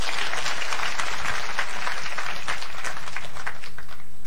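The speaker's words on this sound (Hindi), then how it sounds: "जोरदार तालियां आप लोगों के लिए।" Loud, steady applause from an audience at a Hindi motivational speech, dense clapping sustained throughout with no talk over it.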